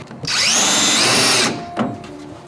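Power drill drives a self-tapping screw into the body of a 1967 Camaro SS resto-mod: one loud, close, high whirring burst of just over a second that winds down, then a brief mechanical clunk.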